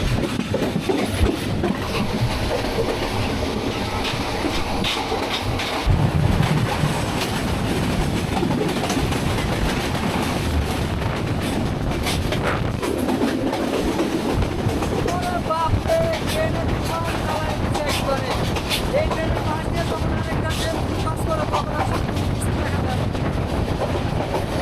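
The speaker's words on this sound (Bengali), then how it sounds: "বিমানবন্দর রেলওয়ে স্টেশন থেকে জামালপুর এক্সপ্রেস ট্রেন ছেড়ে দিল" At night the Jamalpur Express pulls out of Airport railway station on the Mymensingh to Dhaka run, a continuous loud rumble of wheels and rattling carriages with gusting wind noise near the open door and faint voices.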